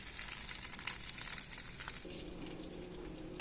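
Skinless longganisa sausage toasts in a pan to caramelize, giving a faint, steady frying crackle with light stirring and a low hum that settles in partway through.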